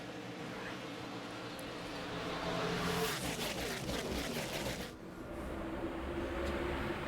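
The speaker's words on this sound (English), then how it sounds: "we're back to green flag racing. And Hamlin gets a great start" NASCAR Nationwide Series stock cars accelerate on a green-flag restart at Las Vegas in 2010, a dense, loud engine roar that swells midway and holds steady throughout.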